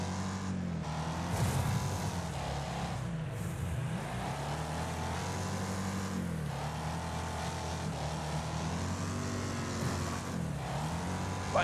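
A car in the video game Wreckfest drives steadily with its engine droning and rising and falling through gear changes. The engine is continuous and fairly close, with no talking.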